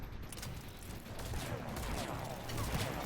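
Gunfire in a video game, with bursts of shots aimed at the player, comes as a rapid, faint crackling fusillade that continues through the clip with no speech over it.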